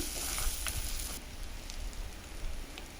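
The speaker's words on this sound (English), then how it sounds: "small onions cut into small pieces. Give it a good fry. I have sliced a garlic. I'm adding that too." Small chopped onions and sliced garlic fry in a pan, giving a soft, continuous sizzle and crackle at low level with brief louder pops, and no talking.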